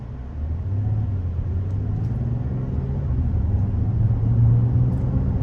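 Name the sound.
2024 Mazda CX-90 Turbo pulling away from a stop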